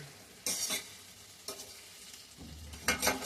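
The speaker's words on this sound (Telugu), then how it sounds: "సరే సరే సరే సరే కలుపుతా కలుపుతా" Food is stirred in a cooking pan with a spoon, a few separate scraping bursts over a soft sizzle, close and fairly loud, with no voices.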